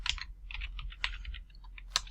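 Rapid keystrokes on a computer keyboard, a quick run of light clicks with a couple of sharper taps, close and clear.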